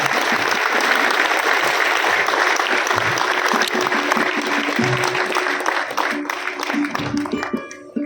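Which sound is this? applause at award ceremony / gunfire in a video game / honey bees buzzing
applause at award ceremony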